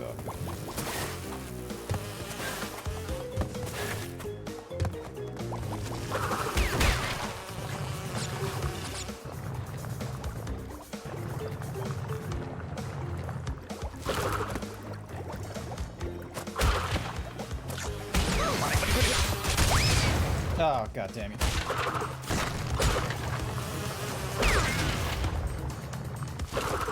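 Insect-like buzzing of bees in a video game, a dense, steady drone running throughout with occasional crashes and clatter, while a man curses briefly over it.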